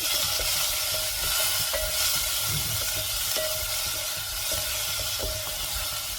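Onions sautéing with a little salt in a pan for mushroom biryani give a steady, close sizzle and hiss, with faint stirring scrapes and no voices.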